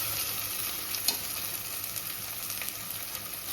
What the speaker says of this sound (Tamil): வதங்கட்டும்.